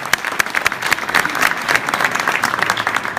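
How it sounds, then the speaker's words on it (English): An audience at a public event applauds Ambassador Ido Aharoni with a loud, dense round of clapping that runs steadily throughout. "Let's give Ido a strong round of applause"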